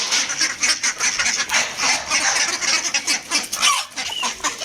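A busy flock of hens and ducks clucks and quacks nonstop nearby while being fed peels, a loud overlapping chatter of poultry calls.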